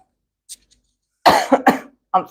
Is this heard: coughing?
yes